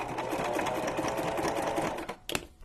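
Sewing machine stitching a junk journal cover, a fast rattling motor-driven run of stitches up close, stopping near the end with a couple of clicks.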